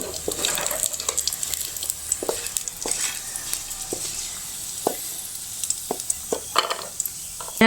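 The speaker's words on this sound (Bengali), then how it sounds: "কাজুটা আর কিশমিশটা আমার ভাজা হয়ে গেছে, এবার আমি ঢেলে নেব" Fried cashews and raisins are scraped and tipped out of a pan with a hot sizzling hiss, several sharp spoon-on-metal clinks and scrapes landing irregularly, close by and without talk.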